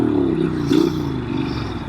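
2014 Norton Commando 961 SF motorcycle engine, a close, steady throbbing twin note with a brief rising rev in the middle, heard alone.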